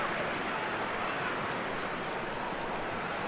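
Steady rain falls over an eFootball stadium during a Galatasaray versus Samsunspor Süper Lig match, a soft, even hiss of drops on surfaces that continues without a break at low volume.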